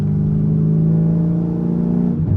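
Manual car pulling away in third gear after the clutch is let out, a steady, loud engine drone climbing gently under throttle for a couple of seconds, then dipping briefly near the end.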